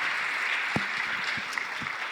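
An audience at an academic lecture applauds in a steady, even patter of many hands, fairly close, with a few louder claps and faint voices underneath.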